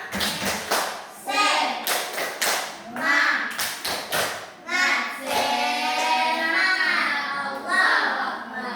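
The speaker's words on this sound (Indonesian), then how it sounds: "Tepuk semangat." A fifth-grade primary school class does a rhythmic spirit clap, bursts of patterned hand claps mixed with children chanting and a teacher's voice, loud and close in a classroom.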